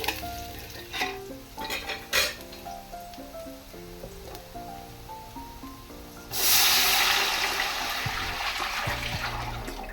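Water pours into a cooking pot of sliced onions for ghee rice, a steady broadband rush that starts midway and carries on to the end, following a stretch of background music with no talk.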